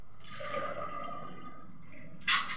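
Water pours into a container with a gurgling, rushing flow heard close up, ending in a short splashy burst.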